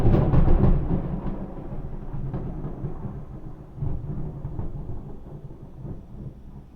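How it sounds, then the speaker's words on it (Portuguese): Thunder from a storm outside a home classroom setting during an online physics lecture, a deep low rolling rumble that swells loudest at the start and then lingers as a sustained grumble with a few softer surges, no talking over it. "deu pra ouvir o trovão aí?"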